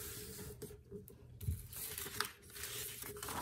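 A sheet of sketchbook paper is folded in half, giving a soft close crinkle and rustle with a few brief scrapes and taps. The sounds are faint and come alone, with no voices.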